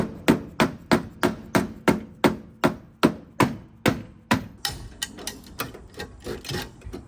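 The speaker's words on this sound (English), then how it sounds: "I'll see if I can pound this out a little bit more." A hammer pounds on a wrecked car radiator support, with about a dozen loud, evenly spaced metallic blows followed by a quicker run of lighter, clustered strikes.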